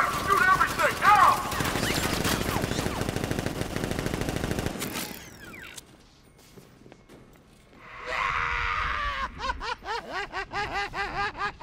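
Militia gunfire in the video game Batman: Arkham Knight, dense rapid automatic bursts over several seconds, then a lull and renewed rattling fire, mixed with voices and laughter.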